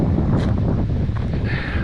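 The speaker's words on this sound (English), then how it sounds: "It's a little breezy today." Breeze at a lakeside campsite buffets the microphone in loud, low rumbling gusts throughout, with no voices.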